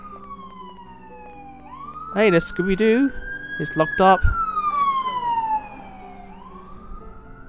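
A police siren wails in a slow rising and falling sweep in the video game Scooby-Doo: Mystery Mayhem, while a person talks briefly over it.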